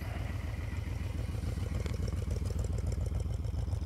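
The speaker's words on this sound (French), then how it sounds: "Je vais même pas arrêter le moteur." A large custom motorcycle engine idling steadily nearby in the Bardenas desert, a loud low rhythmic putter with faint clatter, no voices.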